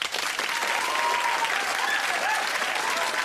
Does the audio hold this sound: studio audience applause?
yes